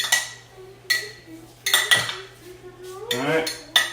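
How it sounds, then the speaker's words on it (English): Utensils stirring a salad in a bowl, with a few distinct clinks and scrapes of metal against the dish spaced irregularly, close and moderately loud, with brief quiet gaps between strokes. "We're going to give this a little bit of a stir."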